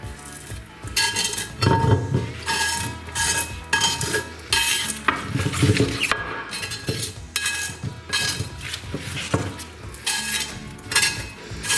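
Steady metallic scraping and scrubbing of a cast iron pan with a metal sponge, with rhythmic rasping strokes and occasional clinks, close and fairly loud throughout, no voices.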